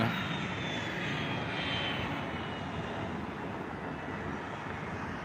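A steady, broad roar of jet airliner engines at an airport fills the whole stretch, fairly distant and constant, with no voices.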